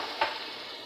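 Chickpeas stirred into a cooking masala for chana pulao, giving a faint steady sizzle with one short scrape of the spoon near the start.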